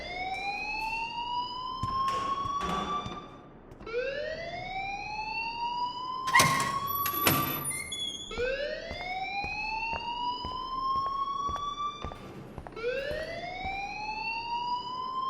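A school alarm in the video game Life is Strange wails in repeated rising sweeps, loud and continuous, with a few sharp clanks and thumps breaking through in the middle.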